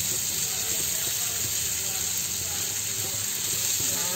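A steady, dense sizzle of shrimp frying in a hot pan, with faint talk underneath throughout.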